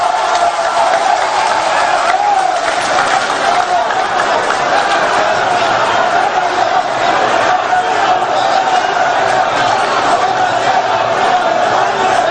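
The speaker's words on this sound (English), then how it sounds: "with a huge round of applause, please." A large crowd at a National Democratic Congress event roars and cheers continuously, a dense sustained wall of noise with shouting voices mixed in, loud and unbroken throughout.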